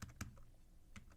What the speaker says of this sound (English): So I'm trying to hit the keys hard so you can hear what I'm doing